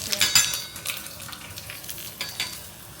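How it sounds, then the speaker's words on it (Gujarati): Vaghar tempering for sambhar crackling in hot oil, a burst of sharp spattering pops that settles into a lighter sizzle, with a few utensil clinks close by. "જો આટલો વઘાર ઉડે પછી શું થાય?"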